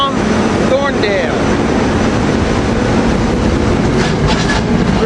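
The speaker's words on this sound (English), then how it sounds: "Train 544 to Link Belt from Thorndale." A SEPTA commuter train rolls through Paoli with a loud, continuous rumble and rhythmic clickety-clack of wheels over rail joints, heard close by with some squealing tones mixed in.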